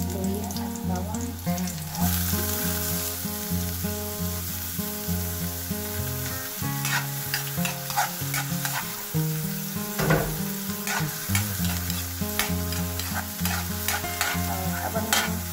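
Ginger and garlic sauté in a pan, a continuous bright sizzle with repeated stirring scrapes, while a steady background of tonal music plays underneath.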